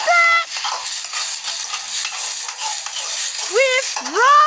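Fried rice with garlic is stirred in a hot pan: scraping and tossing strokes over a steady sizzle, close up, with a few brief squeaky rising tones near the end.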